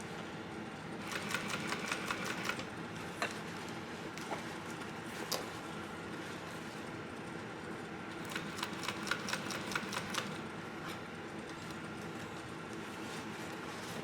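Sewing machine stitching a seam on a bucket backpack, short runs of rapid needle clatter with pauses between them and a steady low hum underneath, close and fairly quiet.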